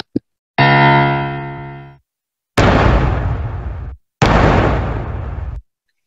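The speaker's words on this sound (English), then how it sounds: "here we have a piano sound that sounds like a gunshot" A synthesized piano-like sound meant to resemble a gunshot: a tiny click, then a sustained tonal burst, followed by two loud noisy blasts that fade over about a second and a half each, separated by silence.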